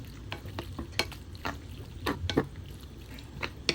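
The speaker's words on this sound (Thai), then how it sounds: "จากนั้นก็จะคั่วหมูให้มันสุกเลย" Quiet stirring and scraping of pork in a hot pan with a soft sizzle underneath, irregular clanks of a utensil against the metal.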